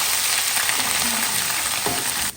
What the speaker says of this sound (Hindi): 1 टेबल स्पून लहसुन पेस्ट और 1 टेबल स्पून ही अदरक पेस्ट डाल देंगे और इसको अच्छी तरह से भून लेंगे